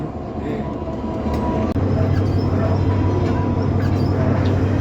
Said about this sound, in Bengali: দুই ট্রাকশন মোটরে টানতে পারে না কন্টেইনার